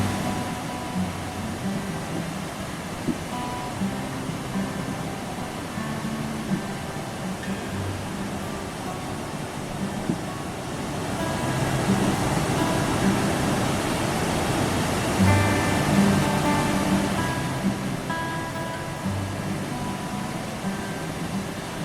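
A stream in Glacier National Park after a rainy day rushes steadily in a dense, unbroken wash of flowing water that swells slightly partway through, with no voices.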